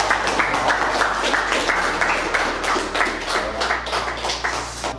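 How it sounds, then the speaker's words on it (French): An audience applauds a young basketball player, steady close clapping sustained for several seconds over a low hum, with a faint voice or two underneath. "si vous voulez bien l'applaudir"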